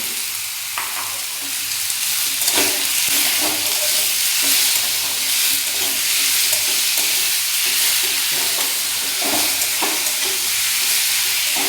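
Sliced onion and 250 grams of minced chicken stir-frying in a pan make a loud, continuous sizzle for patty filling, broken by repeated scraping and stirring strokes of a spatula, with no voices.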